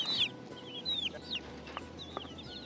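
Young chickens being raised on organic feed cluck and chirp in a few short bursts, fairly close, over a soft steady background hum with no talking.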